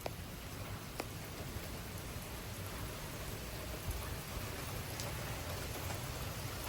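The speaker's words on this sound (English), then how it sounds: "Yeah, it's raining very hard." Heavy rain pouring during a severe thunderstorm with strong wind gusts in Frisco, Texas, a dense steady hiss of drops on surfaces heard from a porch, constant and fairly close with no voices.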